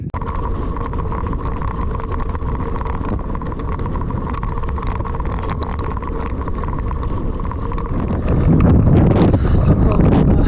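Strong, cold wind at a high-altitude mountain pass, Paso de Jama, roaring steadily and close against the microphone, rising louder near the end, with people talking over it.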